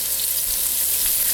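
Celery and carrots sizzling as they saute in a hot pan over medium-high heat for vegetable soup, a steady, close, continuous hiss with a few faint stirring scrapes and no talking.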